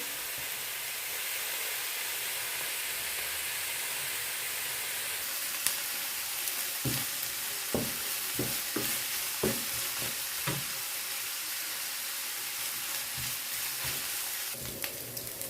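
Bacon and onion sizzle steadily as they are stir-fried in a pan, with a constant hiss and irregular scraping strokes of a utensil, close and fairly quiet.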